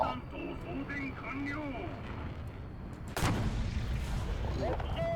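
A tank cannon in War Thunder, an E62, fires once with a sharp, loud blast partway through, followed by a lingering rumble as the bore evacuator clears gas. Someone talks over the scene before and after the shot.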